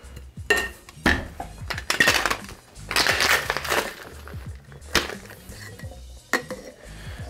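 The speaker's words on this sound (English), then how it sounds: "we're going to shake this with a little bit of ice" A cocktail shaker full of ice is shaken hard while mixing a Sex on the Beach cocktail, giving loud, rapid rattling and clattering bursts close by that run for several seconds with brief pauses.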